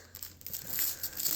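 Packaging on a toy carrier truck being ripped open in short crinkling, tearing bursts, close and fairly loud.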